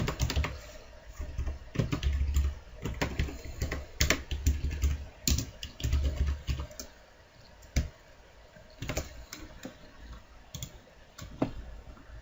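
Typing on a computer keyboard, a close run of quick key clicks coming in uneven bursts with brief pauses between them. No voices.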